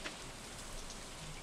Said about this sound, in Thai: ฝนตกด้วยวันนี้โอ้โหสมจริงกันนะเนี่ย